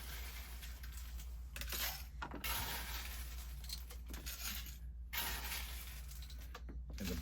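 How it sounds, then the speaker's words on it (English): Ice cubes tumble into a glass holding a whiskey sour mix, giving several bursts of clattering, clinking impacts that ring close and bright with short pauses between pours. "I'm adding my ice on top."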